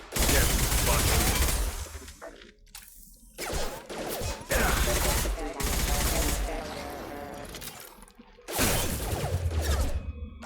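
Bursts of gunfire and impacts in the video game Mass Effect Legendary Edition crackle loudly in repeated volleys, separated by brief lulls, with mechanical clatter mixed in.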